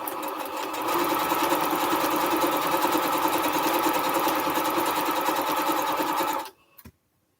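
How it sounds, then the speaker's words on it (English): A sewing machine joins quilt strips for a Triple Irish Chain quilt, running in a loud, steady whirring drone for about six seconds before stopping abruptly. "So now I'm going to go ahead and sew these two together."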